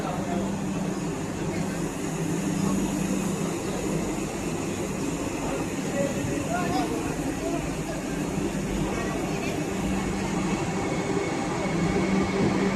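A Vande Bharat train slowly pulling into a railway station, a steady low rumble and hum of wheels and engine persisting throughout, with a voice talking intermittently over it.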